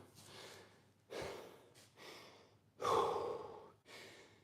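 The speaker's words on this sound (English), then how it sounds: "how much heavy breathing I do." Heavy, ragged breathing after a squat workout, with about five loud gasping inhale-and-exhale bursts close to the mic, some sharp and snorting, separated by short pauses, with no talk.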